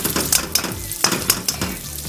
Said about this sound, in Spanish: Siempre removiendo, evitando que se queme el ajo.